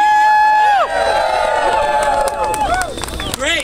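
A crowd at a medical-debt protest rally cheers and lets out high whooping cries, loud and sustained at first and then breaking into scattered whoops and shouts.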